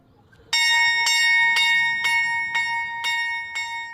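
A convent bell of the Poor Clares rings in a steady, even rhythm, about seven clear metallic strikes each leaving a ringing tail, loud and alone against a quiet background.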